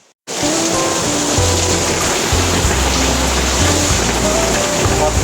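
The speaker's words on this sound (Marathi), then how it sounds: "अक्षरशः धबधब्यासारखं पाणी पडतंय भरपूर दुरात" Heavy monsoon rain pours down in front of a house like a waterfall, a loud, unbroken roar of water that starts abruptly and holds steady.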